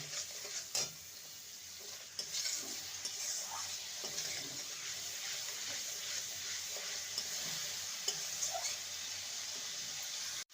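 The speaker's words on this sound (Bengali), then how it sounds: "ভালো করে মশলাটাকে কষিয়ে নেব" Spice paste with a little sugar is stirred and fried in a pan for a vegetarian kakrol dish, giving a steady soft sizzle with scattered scraping taps of a spatula, close and fairly quiet throughout.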